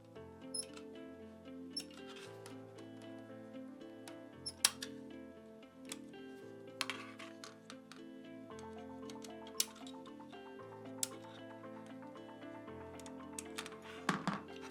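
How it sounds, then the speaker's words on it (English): A God Hand Ultimate nipper snips plastic gates on a Gunpla model kit, giving sharp isolated clicks spaced a few seconds apart over a quiet backdrop of soft music. "the God Hand Ultimate nipper for nub removal on these kits. Just cut the gates as best as I can."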